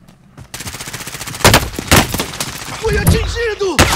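Rapid bursts of automatic rifle fire crack through a Call of Duty Warzone firefight, with a Grau 5.56 and Oden rifles in play, several loud volleys close by amid in-game voice chatter and effects.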